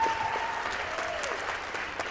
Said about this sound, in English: Big round of applause for Jessica.